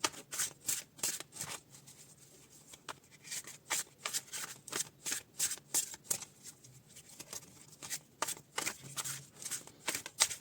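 Tarot cards riffle and slap through repeated shuffling, a rapid run of crisp papery bursts for about ten seconds before single cards are pulled from the deck, close and fairly quiet with no talking.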